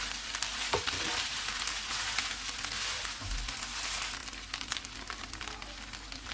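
Keema spaghetti sizzles steadily in a pan as it is stirred, a close, continuous frying hiss with a couple of soft scraping stirs and no talk.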